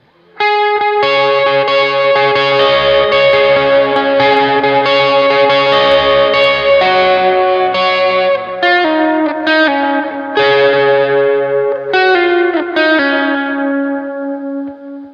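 Electric guitar on the bridge pickup with heavy overdrive plays a lead riff of quick, distorted picked notes and sustained bends, loud and close. It repeats with brief gaps over about fifteen seconds, with no talking.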